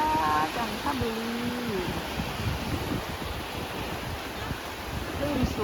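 Sea waves wash onto Kung Wiman beach in Chanthaburi, Thailand, a steady broad surf roar with wind buffeting the microphone and a voice speaking over it.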